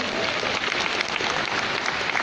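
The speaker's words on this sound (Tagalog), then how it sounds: "Palakpak ko si Jordan Gonzalez." Dense, steady applause from an audience at a company launch and kickoff training event, honoring Jordan Gonzalez, sustained and even throughout with no break, crowd-wide and fairly loud.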